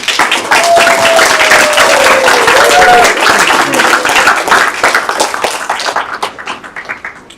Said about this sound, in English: Another applause for these beautiful dancers